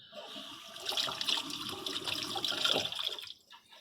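Running water rinses peeled raw shrimp in a kitchen, a steady splashing stream with small irregular surges for a few seconds before cutting off near the end.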